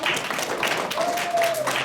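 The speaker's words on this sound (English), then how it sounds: "We'll give him a big round of applause for doing so." Classmates give a student a short round of applause in a classroom, a dense patter of claps with a voice and a brief whistling tone rising over it.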